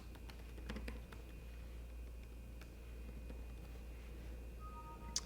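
Keys tapped on a computer keyboard while a business name is entered into an online registration form, a quiet run of light clicks in scattered bursts over a steady low hum.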